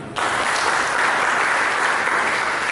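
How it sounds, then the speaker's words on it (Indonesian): A church congregation bursts into dense, steady applause during a sermon, the clapping starting abruptly and holding loud and continuous to the end. "Dengan tepuk tangan."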